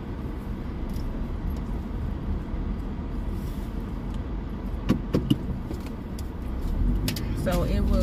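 Steady low road rumble fills a car interior while driving, a constant muffled hum with a few small clicks and rattles, and someone talking over it.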